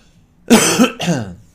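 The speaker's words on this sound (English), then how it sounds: "Excuse me about the coughing." A person coughs twice in quick succession, close and loud, with a short gap between the two bursts and no talking.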